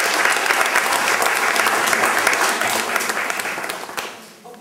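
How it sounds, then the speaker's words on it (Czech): Concert audience applause in a hall, a full sustained round of clapping from many people that holds steady and then tapers off toward the end. "váš potlesk další může mířit k městskému úřadu v Rychnově nad Knížnou."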